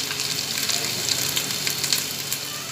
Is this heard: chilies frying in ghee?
yes